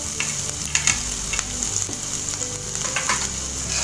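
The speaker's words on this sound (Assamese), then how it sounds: "এইখিনি আমি ভালদৰে কেঁচা গোন্ধটো যোৱাকে ভাজি লম" Crushed garlic and ginger fry in hot oil in a pan, a loud continuous sizzle with occasional scraping stir strokes, close up and with no talking.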